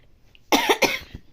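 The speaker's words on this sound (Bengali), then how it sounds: "ভীষণ কাশি হচ্ছে" A person gives two quick, harsh coughs, close and loud, that break out of near silence.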